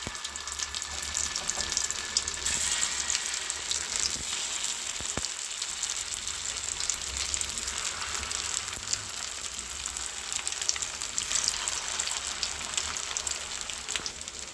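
Pieces of food fry in a pan of hot oil, giving a dense, continuous sizzling hiss with crackles throughout, steady and fairly close with no voices.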